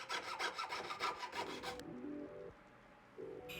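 A hand saw rasps back and forth through rolled metal ring stock being cut to length for a ring, fast rhythmic close strokes that stop partway, then a quieter pause and a brief scrape.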